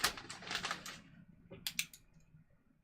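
Scissors snip through fabric at a bodice seam allowance in a few quick, crisp bursts, close and fairly quiet, with a faint rustle of cloth between cuts and no talk.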